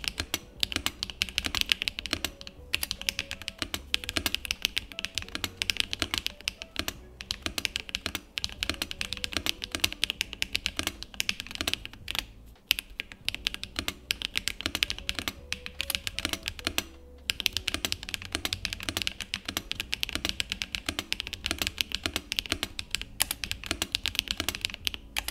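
Continuous typing on a Glitter65 R2 plateless mechanical keyboard, brisk clacky keystrokes in a fast, uneven rhythm, close and clear with occasional heavier spacebar thuds and no talking.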